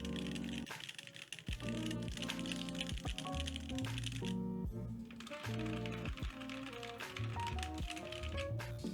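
Steady, brisk typing on a mechanical keyboard fitted with LCET Moonlit Night linear switches with 63.5 gram springs, dense clacking keystrokes close up and continuous throughout, with deeper thocky bottom-out taps.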